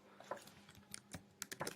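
Quiet, close keystrokes on a computer keyboard while Python code is being written, arriving in irregular bursts of taps with no talking.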